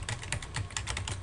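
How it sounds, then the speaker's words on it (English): Rapid, steady clicking of keys on a computer keyboard, close and continuous for about a second. "you'd continue typing on"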